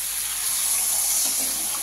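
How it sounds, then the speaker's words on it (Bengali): Broth is poured into a pot for a Bengali potato and fish curry, a steady, continuous splashing gush of liquid, close and even throughout. "এবার ঝোল দিয়ে দিচ্ছি"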